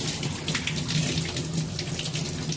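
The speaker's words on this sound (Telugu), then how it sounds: "మష్రూమ్స్ ఇలా ఒక్కొక్కటి 1 బై 1 వాష్ చేసుకుంటానండి" Mushrooms rinsed one by one under a running kitchen tap, a steady close hiss of flowing water splashing into a sink, continuous and fairly loud throughout with no voices.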